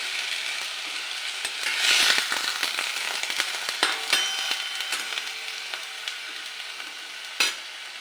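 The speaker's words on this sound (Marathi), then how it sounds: "भाजी घ्यायची जरा तेलात परतल्यानंतर" Chickpea greens sauté in hot oil, giving a steady close sizzle broken by scraping and stirring clatter from a spatula, with a brief louder burst midway and a sharp knock near the end; no voices.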